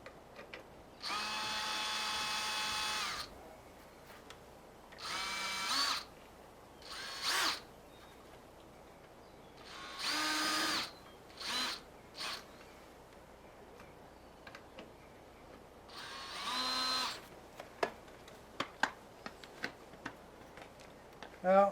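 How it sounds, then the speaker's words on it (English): A power driver whirs in several short bursts, each a few seconds long with pauses between, as it backs a screw out of a pull-up bar on a backyard play structure, followed by small ticking clicks. "So we're going to take the screw out"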